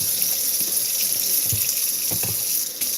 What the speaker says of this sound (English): First and foremost, I'm gonna wash my hands.